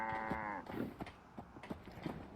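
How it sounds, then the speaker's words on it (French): A two-headed cow in Fallout 4 gives one long, loud, close moo at the start, followed by shuffling game ambience and faint background movement. "Mais non, une vache à deux têtes."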